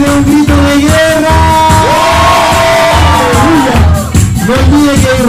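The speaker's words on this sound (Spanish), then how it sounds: "Ahora sí de un grito de guerra." A church congregation at a Sunday worship service in Calama shouts and cheers a loud war cry together, sustained whoops and yells ringing out over pounding music with voices throughout.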